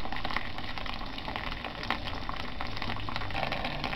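Hot water pours steadily into a glass kettle for brewing tea, a continuous close splashing fill with a faint bubbling hiss and no talking.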